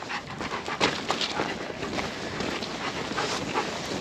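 Outdoors, a dog pants in quick, breathy rhythm close to the microphone, with wind buffeting and rustling noise running underneath throughout.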